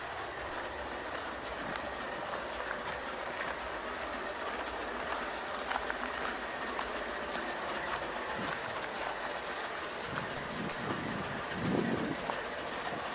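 Norfolk Southern Dash 9 locomotives NS 9005 and 9002 idling and rumbling nearby, a steady diesel drone with faint rail clatter and a louder low surge near the end.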